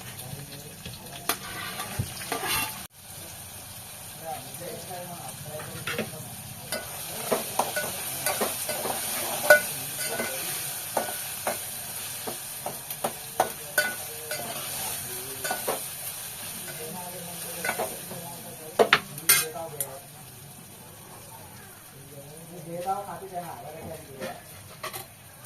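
Tomatoes and onions soften in a hot pan with a steady low sizzle, broken by scattered scrapes and clinks of stirring, while someone talks over the cooking throughout.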